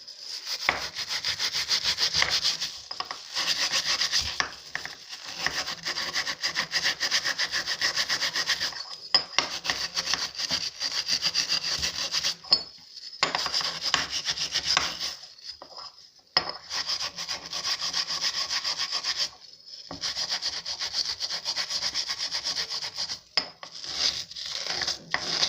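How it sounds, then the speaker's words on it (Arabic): Coarse steel wool with liquid soap scrubbing a gas stove burner, a harsh rasping rub in long continuous bursts broken by brief pauses, close and fairly loud. "هندعكها اهو بالسلكه الخشنه دي وشويه صابون"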